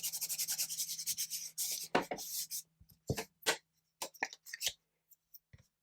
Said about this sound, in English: So embossing buddy, just tap it on.